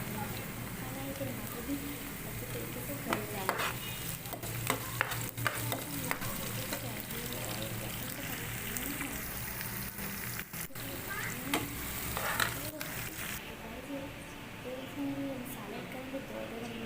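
Finely chopped onions sizzle steadily in a hot pan while being stirred with a spoon, a continuous frying hiss with scraping strokes, as a voice talks over the cooking.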